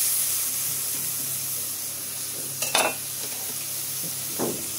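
Water lily stems and shrimp fry in a pan with a paste of ground coconut and onion. A soft, steady sizzle runs under a couple of brief scraping stirs of the spoon, with no voices.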